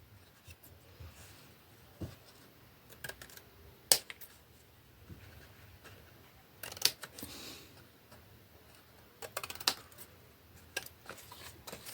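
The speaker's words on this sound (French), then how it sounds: "je vais couper un peu" Paper being snipped for a scrapbooking project, a few sparse crisp cuts and small rustles close by, with quiet gaps between them.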